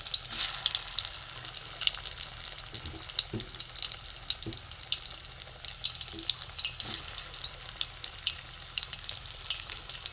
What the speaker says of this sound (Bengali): আস্তে আস্তে ভাজতে হবে, কারণ ভেতরে কাঁচা চিংড়ি মাছটা আছে, ওটা সেদ্ধ হবে।